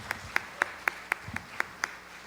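A church congregation at a Sunday worship service claps in a steady, even rhythm, about eight distinct claps, faint and somewhat distant in the room.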